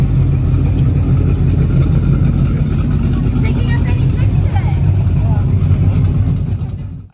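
A classic Ford Mustang pulls away at a Classics & Cake car show, its engine a loud, steady, deep rumble that holds for several seconds before fading abruptly at the end.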